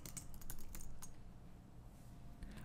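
Quick, light keystrokes on a computer keyboard, clicking in a short irregular burst, then thinning out. The sound is close and fairly quiet, with no voices.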